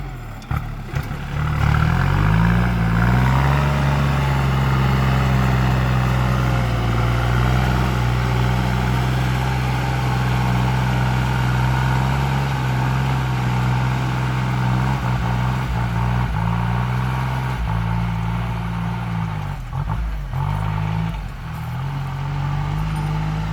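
A Kubota L3608 tractor engine runs steadily while plowing, a loud, close, low diesel drone with slight load changes throughout.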